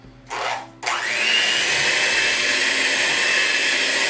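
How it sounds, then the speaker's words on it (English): Steady whirring of an electric mixer blending three-quarters of a cup of milk into Boston cream cake batter in a home kitchen, starting with a short burst, a brief pause, then a continuous close, even drone with no talk. "This is 3/4 of a cup of milk, so I'm just gonna mix this up real well"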